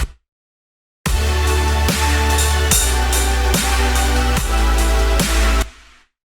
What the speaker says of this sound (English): we can add a ride, like maybe even like a China